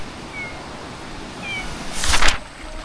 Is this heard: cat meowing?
yes